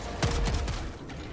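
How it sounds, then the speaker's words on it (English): Mortar fire in Helldivers 2: one sharp, heavy boom followed by a few quick echoing thumps, loud and close, fading out within about a second. "Oh, that's my mortar."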